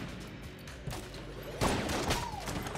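Shotgun blasts in the Enter the Gungeon game, fired at a fox cannon enemy on level 3. Loud bursts cut in over steady game noise, with a sharp blast partway through and another shot near the end.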